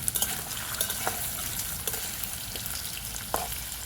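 Potato pieces fry in hot oil with turmeric, a steady close sizzle with a few light clicks of a stirring spoon against the pan.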